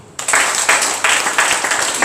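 A university economics class breaks into applause after a quiet start, the clapping rising abruptly and continuing in surging waves, loud and close, with a faint voice in the room.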